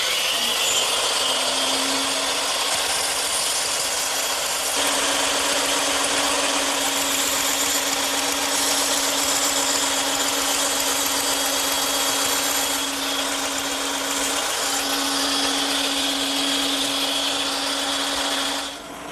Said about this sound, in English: now I just have to take that over to my bandsaw and cut it out